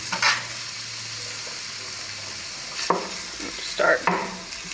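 Sausage sizzles steadily in a hot pan, close and continuous, with a few louder bursts of spatter and stirring scrapes, and no one speaks.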